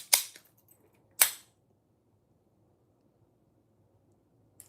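Two sharp, loud gunshot-like cracks about a second apart, each with a short decaying tail, followed by near silence and a faint third click at the very end.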